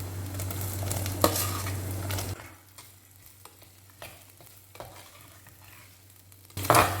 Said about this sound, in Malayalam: ഇത് നന്നായിട്ട് എണ്ണയിൽ വഴറ്റിയെടുക്കാം